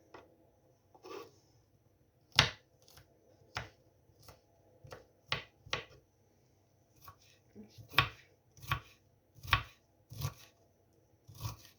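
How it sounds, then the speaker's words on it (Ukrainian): Onion being finely chopped with a knife for meat patties, heard as irregular sharp taps on a cutting board, some close and loud, others lighter, with pauses between bursts and no talk. "цибульку я пошаткувала"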